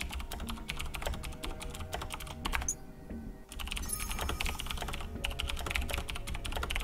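Continuous computer keyboard typing, rapid clattering keystrokes close to the microphone with a short pause in the middle, heard without talk over faint background game sound.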